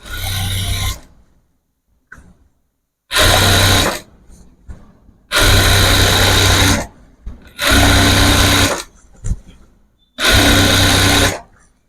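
Sewing machine stitching a saree petticoat, running in five loud, steady bursts of a second or two each, with short quiet pauses and faint handling noises between runs.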